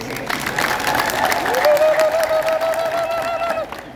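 A church congregation claps together in a sustained burst while a voice or chant holds a long tone over the applause, which fades near the end.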